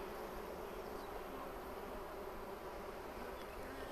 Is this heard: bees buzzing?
yes